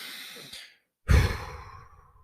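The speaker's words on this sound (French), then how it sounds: "tu respires calmement" During a calm box breathing exercise, a single long exhale tapers off into silence, then a deep, loud breath follows and slowly fades, close and alone with no talk.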